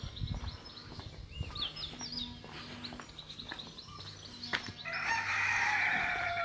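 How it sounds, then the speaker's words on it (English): Mixed birdsong and calls at a park, with a rooster crowing and fowl clucking among chirps, moderately close and continuous, a louder bright burst of calls near the end. "so we're surrounded by bird noises."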